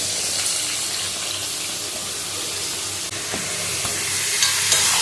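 Diced bottle gourd sizzles steadily in hot oil with black cumin and slit green chillies, a dense continuous hiss that swells slightly near the end as the pieces are stirred.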